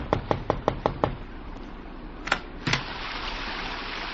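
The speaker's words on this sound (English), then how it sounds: "I thought it was his knock that I heard on my door" Six quick, evenly spaced raps on a door, followed after a pause by two heavier knocks, over a steady hiss like rain in the background.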